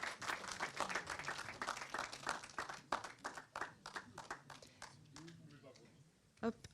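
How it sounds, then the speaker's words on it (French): A theatre audience claps as a film producer is welcomed onto the stage at a masterclass. The applause is moderate and uneven, with individual claps standing out, and it thins and fades near the end. "Vous pouvez applaudir, bien sûr, et on va accueillir la productrice du film, Julie Esparbès"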